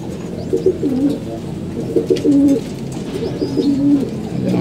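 Several pigeons coo softly nearby, low throaty calls repeating in loose overlapping bursts over a faint background murmur.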